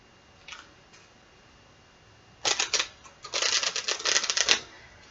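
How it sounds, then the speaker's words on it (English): Tarot cards are shuffled on a soft, squishy bed, with a faint flick early on, then two quick bursts of rapid, crisp riffling clicks, close and moderately quiet. "So I'm going to do 2 more shuffles because the bed is so squishy."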